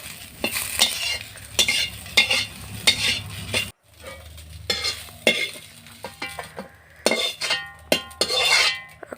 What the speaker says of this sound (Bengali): কড়াইতে দিয়ে দিলাম। তো দেওয়ার পরে দেখো আবার কিছুটা এখানে আমাদের নেড়ে চেড়ে ভেজে নিতে হবে